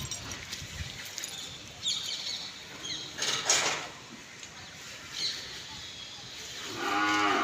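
A cow moos several times in a farm setting, its calls rising out of a noisy outdoor background, with a longer moo toward the end; no talking is heard.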